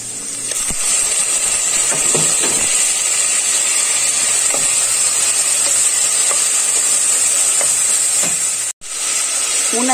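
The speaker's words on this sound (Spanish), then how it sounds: "Ahí lo vamos a dejar a que se dore un poco la cebolla con los ajos," Onion and garlic fry in a pot, with tomato to follow, giving a loud, continuous sizzle and hiss, interrupted by occasional faint stirring clicks and one brief dropout near the end.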